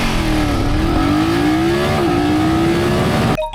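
A BMW touring motorcycle accelerates hard from a standstill to 100 km/h, its loud, close engine note climbing steadily through the gears with brief dips at each shift before cutting off abruptly near the end.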